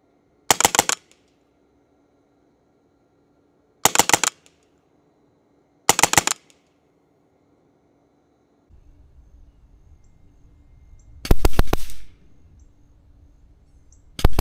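A custom Western Airguns Sidewinder .22 air rifle fires four sharp, loud shots, spaced a few seconds apart with near silence between them, and a low rumble of handling noise before the last shot.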